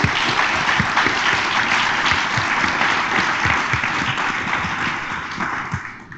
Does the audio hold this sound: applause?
yes